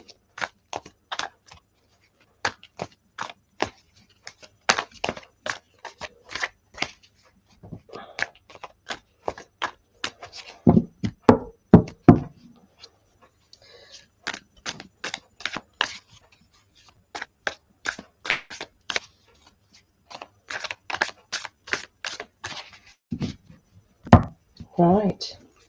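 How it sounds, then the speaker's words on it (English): Astrology reading cards are shuffled by hand in repeated quick riffling bursts, close and crisp, with short pauses between rounds and a few soft thumps as the deck settles. "Okay, I'm going to give them a good shuffle."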